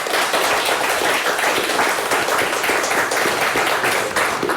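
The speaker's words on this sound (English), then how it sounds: "Let's give them a big round of applause." A studio audience at a televised high school quiz competition claps vigorously, a dense, even burst of applause that holds steady and close for a few seconds.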